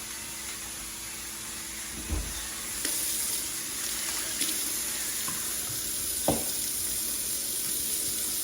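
A kitchen tap runs steadily into a sink during washing up at a cooking station, with a few soft clunks of items being handled and no speech.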